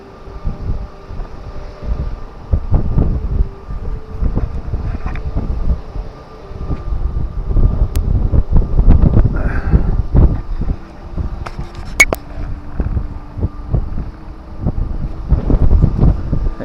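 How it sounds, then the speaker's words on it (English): Strong wind buffets the microphone at sea on a fishing boat, a steady roaring rush with gusty surges that swell and ease throughout, loud and close with no voices. "It is windy."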